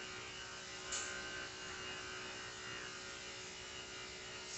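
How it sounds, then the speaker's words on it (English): Electric clippers hum steadily while shaving the ear of a matted dog during grooming, a constant close buzzing drone with a slight bump partway through and no speech. "So once I finish shaving the ear"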